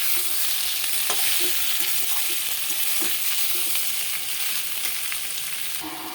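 Potatoes frying in hot oil with panch phoron whole spices make a steady, close sizzle, broken by light scraping and stirring clicks throughout.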